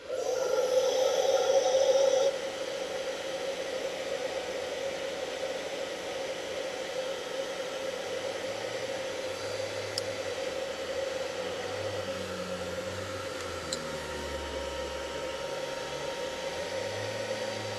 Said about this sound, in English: So I'm going to blow dry on a cool setting just to dry this.